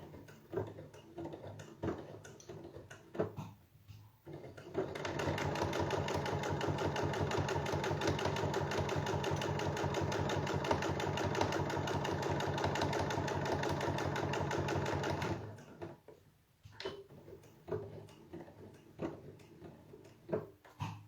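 A sewing machine stitches a seam in one steady, loud run of about ten seconds, with fast even rhythmic clatter. Quieter handling noises and brief pauses come before and after it.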